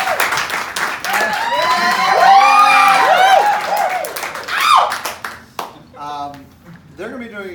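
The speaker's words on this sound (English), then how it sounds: "Yeah, you can clap for them." Crowd at a live game show event cheers, whoops and claps loudly for two contestants, with excited shouting voices rising over the clapping before it fades and a host begins talking.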